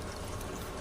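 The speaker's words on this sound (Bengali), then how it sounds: "জলটা দিলাম ওই দই বাটিটা ধুয়ে," Water from rinsing out a yogurt bowl poured into a cooking pan while making masala paneer, a steady close splashing pour lasting under a second.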